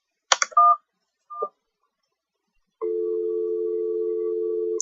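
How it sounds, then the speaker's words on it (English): In the Syberia video game, a telephone number is dialed with a few quick clicks and short electronic tones, followed after a pause by a steady ringing or dial tone that holds for about two seconds. "let's phone the boss"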